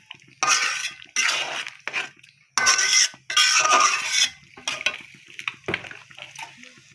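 Rice being washed for chicken biryani: bursts of water sloshing and grains swirling against a metal pot, repeated in short uneven splashes with quiet gaps between.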